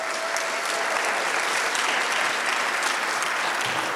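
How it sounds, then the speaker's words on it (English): An audience at a school event applauds the superintendent with a steady, even wash of clapping from many hands, sustained and fairly loud throughout, with no voices over it. "give our superintendent, Dr. Anthony Smith, another round of applause."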